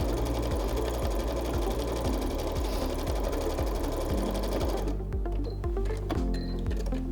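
A sewing machine runs steadily, topstitching with a quilting presser foot on a striped floral fabric bag, then slows and stops with a few mechanical clicks near the end.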